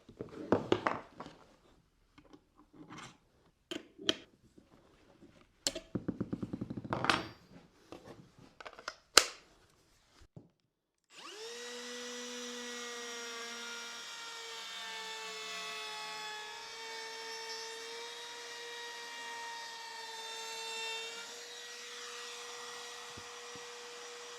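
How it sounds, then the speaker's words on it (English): Scrapes and knocks of handling wood give way to a router fitted with a flush cut compression bit, trimming a plywood overhang on a tool storage cabinet with a loud, steady high whine that holds for over ten seconds. "I'll trim the plywood overhang flush with a flush cut compression bit"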